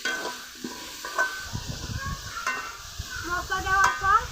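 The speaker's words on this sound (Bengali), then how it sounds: "মশলা দেওয়ার পর কুমড়াগুলো কিছুক্ষণ কষিয়ে নিয়েছি" Pumpkin pieces sautéing with turmeric, chilli and spice powders in a pan, giving a soft, steady sizzle broken by scraping spatula strokes and the odd clink of utensils, with some faint background voice.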